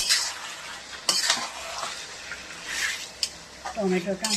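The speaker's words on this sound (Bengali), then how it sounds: "অনেকটা মাংস আছে, এবার আমি নাড়তে থাকবো" Mutton being stirred in a pan, with scraping and clattering bursts of a utensil against metal, light sizzling underneath, and a voice briefly audible near the end.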